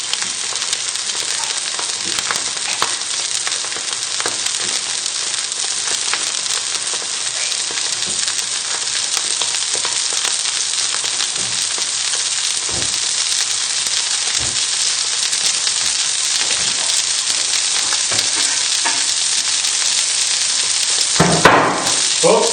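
Cod fillets with a coriander and lemon crust fry in a hot pan, giving a steady, loud, close sizzle that hisses unbroken, with a brief clatter near the end.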